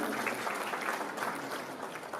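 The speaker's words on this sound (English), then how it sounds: "I'm a fan of the applause keeping on until the person gets here." Soft, continuous audience applause at an Africa Cancer Foundation event as a speaker walks up, a steady even patter of many hands heard from a distance.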